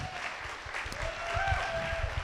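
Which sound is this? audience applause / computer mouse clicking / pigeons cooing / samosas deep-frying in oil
audience applause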